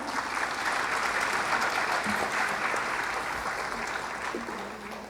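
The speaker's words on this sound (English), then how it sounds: "Can we please have another round of applause?" A seated audience applauds after a dance performance at an arangetram, with dense, sustained clapping that fades slightly toward the end.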